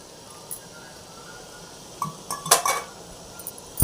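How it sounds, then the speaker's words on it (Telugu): A ladle clinks and scrapes against a cooking pot while spiced goat head curry is mixed, with a few quiet taps followed by a short burst of metallic clatter near the end. "వేసుకొని బాగా కలుపుకోవాలి"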